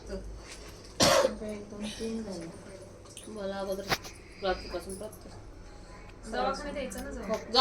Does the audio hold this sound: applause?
no